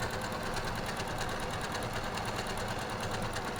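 A sewing machine stitches a double rolled hem in a fast, even, continuous buzzing run at close range, loud and steady throughout with no pauses or voices.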